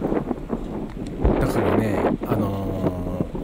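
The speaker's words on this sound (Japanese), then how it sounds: "音がすっごい風の音ばっか入っちゃってね" Heavy wind buffeting the microphone on a very windy day, a constant low rumble with gusts, under someone speaking briefly.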